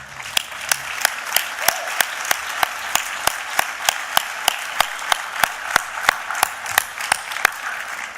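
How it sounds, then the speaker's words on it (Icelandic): A political party convention audience applauds, with a dense wash of many hands clapping and strong, evenly spaced rhythmic claps standing out as the crowd claps in unison for the whole stretch. "við gefum þeim sérstaklega gott klapp"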